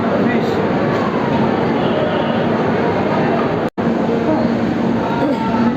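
Kaziranga Express pulling out of NJP station, a steady, loud rumble of rolling coaches and wheels on track heard from inside the train, continuous throughout with one brief dropout, and voices faintly underneath.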